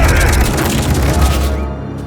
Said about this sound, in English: We have about 660 bullet hits that we're syncing up with the camera for this shot.